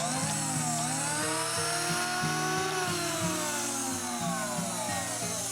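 A Bosch router fires up on a vintage Craftsman 113 contractor table saw, a loud steady motor whine with a constant tone running the whole time, with a few low knocks and shifting tones underneath.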